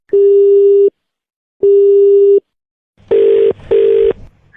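A telephone busy or disconnect tone sounds as two loud steady beeps with a gap between them, then two shorter, harsher beeps close together.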